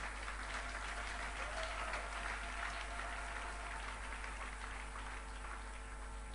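A church congregation applauding to acclaim the Lord, with dense, continuous clapping at moderate distance that stays even from start to finish.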